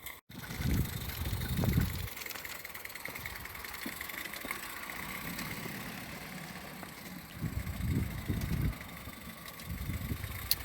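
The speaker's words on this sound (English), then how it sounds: "Well, the engine's running more smoothly with a little bit of load behind it." A steam engine runs under load, a steady mechanical chugging with low rhythmic pulses that swell and ease at moderate distance, without any voices.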